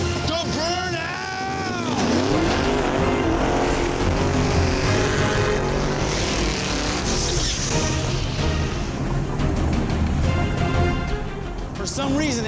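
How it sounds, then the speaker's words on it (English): A six-second steel-body drag race street car does a tire burnout at a grudge race, a loud sustained engine roar and tire screech running continuously throughout, with a crowd and commentary audible underneath. "Let's see the burnout."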